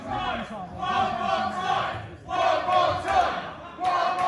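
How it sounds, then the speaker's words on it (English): A wrestling match crowd cheers and chants in loud, rhythmic bursts with short pauses between the swells. "Hear the crowd, they want him, they want Nino to hit that kick one more ti"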